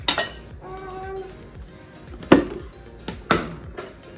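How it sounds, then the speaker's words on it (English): A knife cuts a fresh pineapple into smaller pieces for juice, giving a few sharp, close chops against the cutting board with quiet gaps between them. "Just cutting a little bit smaller."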